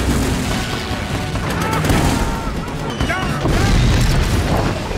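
Several gunshots and heavy booms, including machine-gun fire, burst out amid a dense, noisy film action soundtrack, with loud blasts recurring irregularly.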